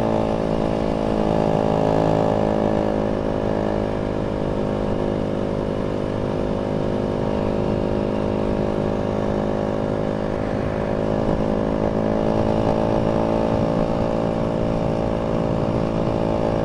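A Yamaha WR250F enduro motorcycle on road-legal enduro tyres hums steadily while being ridden on the road below 60 mph, a loud, even engine note with tight harmonic buzz throughout and no voices.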